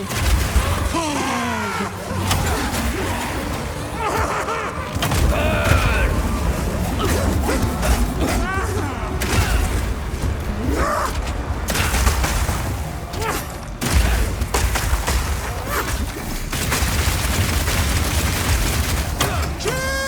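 A mercenary unleashes a rapid-fire attack in the video game Path of Exile 2, with a dense barrage of booming, crackling impacts and blasts over a steady combat din, and shouted character voice lines breaking through.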